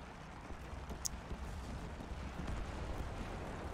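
Distant artillery fire in a tank video game rumbles as a low, continuous booming wash, with one sharper crack near the start and no voices.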